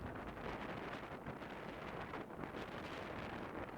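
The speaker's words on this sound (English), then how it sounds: "But the wind is just going hard right now." Strong wind blowing across a disc golf course at Fehringer Ranch, buffeting the microphone in a steady, loud, broadband roar with slight gusting and no talking.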